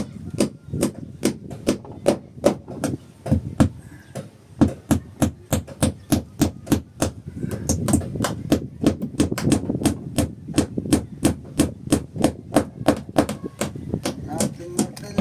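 Hammer blows on wood during Filipino carpentry work, a long run of sharp, evenly spaced strikes close by, a few seconds of quieter pause, then faster, denser hammering that carries on to the end.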